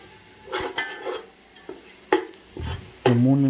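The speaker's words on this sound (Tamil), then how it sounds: "எண்ணெயில் நல்லா பூண்டு வேகணும், பச்சை வாசனை போகணும்." Ground garlic paste frying in hot oil for an Ambur mutton biryani, with bursts of sizzling and a spoon scraping and stirring the pan in several separate strokes, close and fairly loud.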